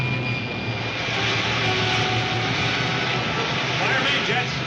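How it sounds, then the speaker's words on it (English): Rocket ship pilot jets fire in a 1952 science-fiction serial as a steady, loud, broadband roar that holds unbroken for several seconds. "Fire pilot jets."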